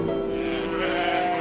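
Sheep bleating in a field in an animated children's series, a sustained wavering tonal bleat held over steady background ambience, fairly close and clear with no talking.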